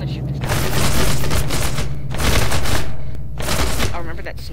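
Heavy gunfire from People Playground, with a Melon Playground mod, strikes a character in dense booming volleys that swell and fade in long waves, loud and close, layered with rumbling low thumps.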